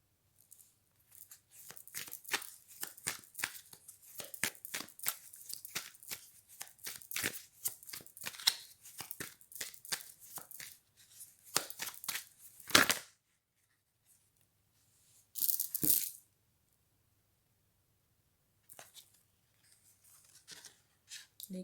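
Close-up tarot card shuffling, rapid dense crisp riffles and flicks for about thirteen seconds, then a few scattered card snaps separated by near-silent gaps.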